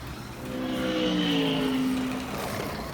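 A Scalextric slot car modelled on The Batman Batmobile running on its track, a whining motor that rises and falls as it passes close by over a few seconds, with no voices.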